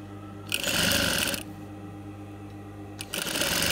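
A sewing machine stitches over folded hair to make weft hair extensions, with two steady mechanical whirring runs of rapid stitching and a quiet pause between them, close and without voices.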